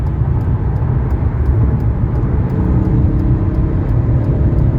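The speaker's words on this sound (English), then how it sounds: "Holy cow, this V8 is awesome." A 1999 Mercedes S500 Grand Edition V8 at highway speed, heard from inside the car as a loud, steady roar of engine and road noise that never breaks.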